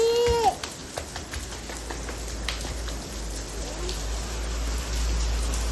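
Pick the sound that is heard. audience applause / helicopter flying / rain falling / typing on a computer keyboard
rain falling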